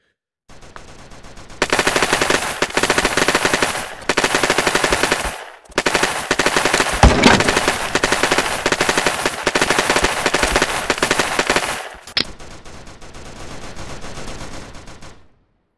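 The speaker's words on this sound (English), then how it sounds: "they're already shooting" Sustained automatic gunfire in the XR Ultra Physics Sandbox 2 video game, long loud bursts of rapid shots with short gaps between them and no talking.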